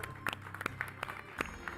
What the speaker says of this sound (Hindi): हम तालियां बजाएं